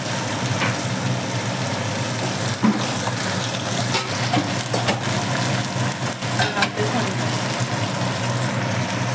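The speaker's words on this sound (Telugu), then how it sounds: "పచ్చిమిరపకాయలు, ఎండుమిరపకాయలు వేగాక ఇలా నానబెట్టిన శనగపప్పు, మినప్పప్పు వేసుకోవాలి" Soaked chana dal and urad dal fry with green and dried red chillies in hot oil, giving a loud, steady sizzle with occasional stirring scrapes throughout.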